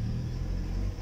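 A VW Golf engine with a fault that stops it from gaining revs makes a low, steady rumble as the driver accelerates, held at a flat, modest level without climbing, close and alone.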